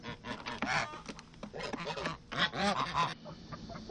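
Geese honk loudly and close by in repeated harsh, nasal calls, several birds overlapping in irregular bursts with brief gaps.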